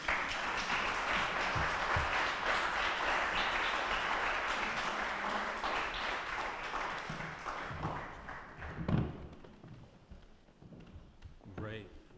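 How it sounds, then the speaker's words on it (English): An audience applauds after an author's reading, with dense clapping that is strongest at the start and fades out over the following seconds. "Can we have another round of applause for Mr. Whitehead"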